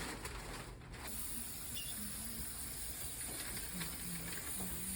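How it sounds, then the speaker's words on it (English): A steady hissing spray from a can, applied over transfer paper during cast preparation for an ankle-foot orthosis, continuous and fairly close, with faint mechanical clicks. "I'm not spraying this close to the paper, but I'm getting a nice spray over the whole thing"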